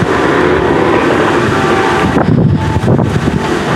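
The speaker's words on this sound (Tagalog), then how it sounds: "ang lakas ng ulan dito. Ang lakas ng hangin." Heavy rain and strong gusting wind batter the town of Basco in Batanes, a loud, steady roaring wash with buffeting surges and no voices.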